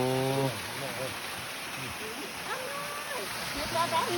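A forest waterfall rushes in a steady, hissing wash of water, with people talking over it.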